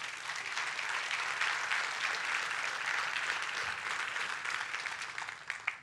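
A church congregation claps together in sustained, steady applause at a fairly even level for several seconds, with no voices above it.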